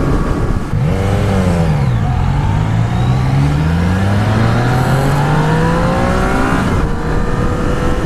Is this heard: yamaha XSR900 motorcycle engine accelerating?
yes